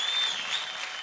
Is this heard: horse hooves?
no